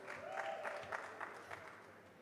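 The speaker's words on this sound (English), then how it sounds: "Well, keep clapping" Audience applause at a summit event, a soft, fairly distant patter of clapping that swells and fades over a couple of seconds, with no talk over it.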